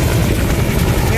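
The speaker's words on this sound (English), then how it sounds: "this is a helicopter, puts out forest fires" A firefighting helicopter that puts out forest fires flies nearby, a loud, steady rotor and engine roar filling the whole short stretch.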